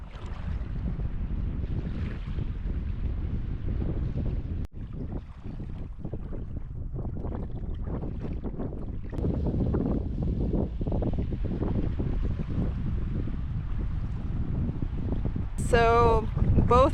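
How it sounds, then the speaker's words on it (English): Steady wind roars and buffets the microphone on a lake while a paddleboard is paddled hard upwind on Vancouver Island, with water sloshing beneath; the noise is loud and continuous throughout, with a brief chirping bird call near the end. "So now I'm paddling very hard into the wind up the other side of the lake."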